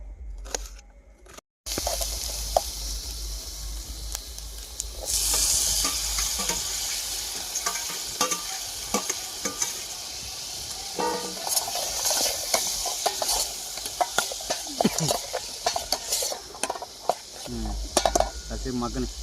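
Tomato rice stir-fried in a pan outdoors at night while camping beside a newly dug pond: a steady, close sizzle runs throughout, broken by frequent metallic scrapes and clinks of the stirring utensil.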